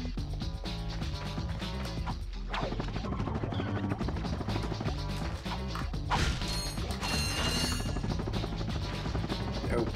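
In the Ratchet and Clank game, boxes smashed with the Pyrocitor give a dense run of mechanical clatter and crashing breaks with a whooshing weapon burst, loud and busy over game sounds.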